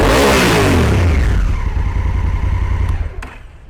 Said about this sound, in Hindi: थोड़ा सा रेव अप करेंगे आप इसे